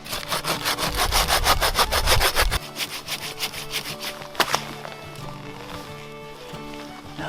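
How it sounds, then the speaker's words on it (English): A handsaw cuts through a big log outdoors in winter backcountry, giving rapid rhythmic rasping strokes for several seconds, close and loud, then a few knocks and quieter rustling as the cutting stops. "Big old log, just with a handsaw."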